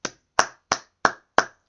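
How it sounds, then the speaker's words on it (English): Five sharp, evenly spaced claps, dry and close, about a third of a second apart, with silence between each. "And a round of applause for Guan Yu."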